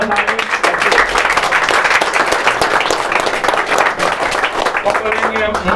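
A crowd at a gaming tournament applauding, dense clapping that holds steady for several seconds with some voices mixed in.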